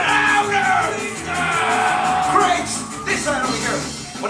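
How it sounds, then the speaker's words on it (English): A protest crowd at a piñata protest in Los Angeles yells chants in unison, with loud repeated group shouts rising and falling over several seconds amid general crowd noise. "when I point to y'all, I want you to yell, chinga"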